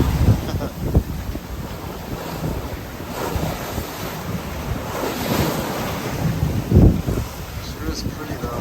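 Wind and waves at sea on a four-day sailing passage to Beaufort, NC: steady wind buffeting the microphone over rushing, surging water around the boat, loud and close throughout.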